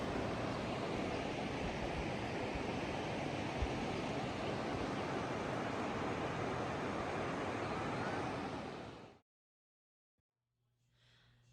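Snow runoff rushing into a mountain swimming hole at the start of summer, a steady dense roar of flowing water that holds for about nine seconds and then cuts off abruptly to near silence.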